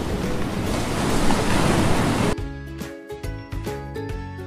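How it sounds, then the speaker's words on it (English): Surging, crashing ocean surf fills the first half as a broad roar; a tonal background takes over after it cuts off. "The waves rise and crash."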